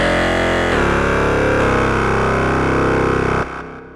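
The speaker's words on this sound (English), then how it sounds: "creating very unique and different sounds, just by manipulating different types of saturation and distortion" Odin 2 software synthesizer patch with heavy saturation and distortion, a thick buzzing sustained tone that shifts pitch a few times, loud and alone, then cuts off abruptly with a short fading tail.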